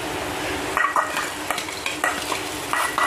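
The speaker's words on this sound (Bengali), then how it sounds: "হলুদ গুঁড়োটা দিয়ে পেঁয়াজের সঙ্গে আর অল্প একটু ভেজে নেব।" Chopped onion frying with turmeric powder in a pan at a hill village kitchen, a steady close sizzle broken by several brief scraping stirs of a spoon, with no talking.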